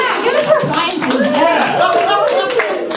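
A comedy show audience claps and cheers throughout, a dense stretch of applause mixed with voices shouting from the crowd.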